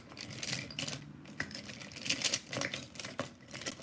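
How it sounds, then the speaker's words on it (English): Small scissors are handled up close, giving light metallic clicks, taps and rattles scattered irregularly over a few seconds with no talking. "Oh, here go my little scissors"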